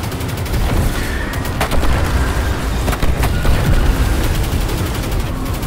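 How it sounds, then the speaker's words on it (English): Dense, loud bursts of gunfire in Destiny 2 crackle almost continuously, with sharp rapid shots layered over a heavy rumbling background. "A lot of gunfire here."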